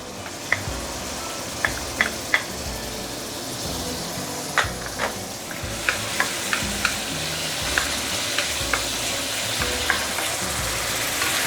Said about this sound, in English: So let's saute the shallot, coriander roots, garlic,